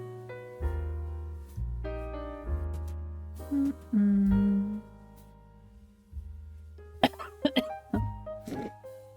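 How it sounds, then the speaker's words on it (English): Several harsh coughs and throat-clearing bursts stand out over a low, steady background hum, clustered mid-clip and again near the end. "Sorry for the little cough"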